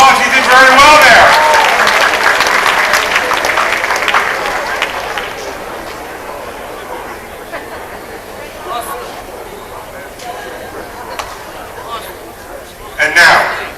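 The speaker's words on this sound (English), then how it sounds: "give yourselves a round of applause" Audience applause at a live roast show fills the room loudly at first, then thins and fades over several seconds as a voice talks over it, with a brief renewed burst near the end.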